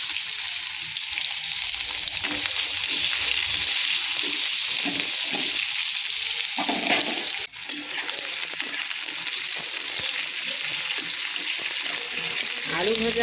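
Potatoes and onions fry in hot oil with dried red chillies and whole-spice tempering, a steady close sizzle with occasional stirring and a voice speaking over the cooking.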